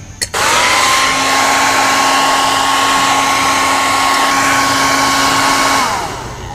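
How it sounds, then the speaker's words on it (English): A hair dryer clicks on and blows with a loud, steady whirring rush and a constant motor tone, heating a dented vehicle panel, then clicks off near the end. "next I'm going to try heating it up with a hairdryer"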